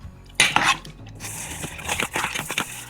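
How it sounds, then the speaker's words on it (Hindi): A spoon scrapes and clanks against a metal pot while chana dal with spices is stirred and roasted over a high flame, giving irregular close clatters and scraping strokes with quieter sizzling between them. "चने की दाल डाल के अच्छी तरह मिक्स करेंगे और थोड़े से तेज़ चूल्हे पे इसको भुनेंगे"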